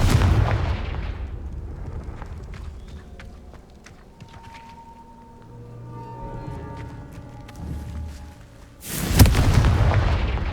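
In the video game Hogwarts Legacy, a Confringo spell explosion opens with a heavy boom, then fades into quieter in-game ambience with faint tones. A second loud blast erupts near the end.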